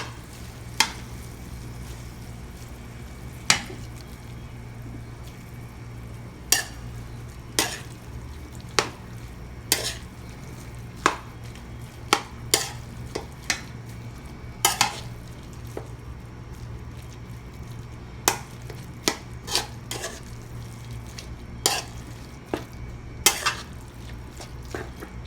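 Beef browning in a pan for shakshouka, with a steady low sizzle and repeated sharp clacks and scrapes of a utensil stirring against the pan throughout.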